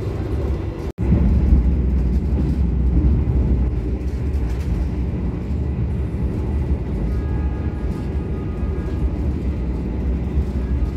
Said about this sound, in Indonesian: kereta api Argo Bromo Anggrek ini sudah bisa dipacu dengan kecepatan 120 km per jam ya